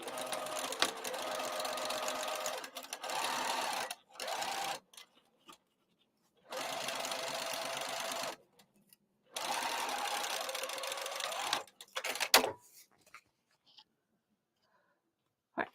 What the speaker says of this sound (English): So I'm going to sew this here. My stitch length is a 3.